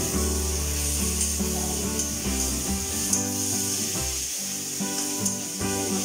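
Ginger garlic paste fries in a pan as a steady sizzle with stirring scrapes throughout, loud and close, with no talking.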